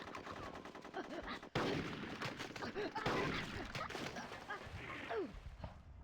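Sniper gunfire in Conker's Bad Fur Day rings out in sharp cracks over a busy, continuous battle din, with a particularly loud shot partway through.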